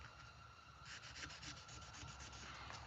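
Close, steady strokes of sandpaper rubbing on the handle covers of a Case Sodbuster knife, a dry rasping rhythm that grows busier and more evenly paced after the first second.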